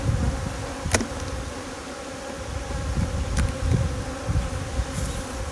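Steady buzzing of many bees around hives being moved, a dense close hum with occasional louder passes of individual bees.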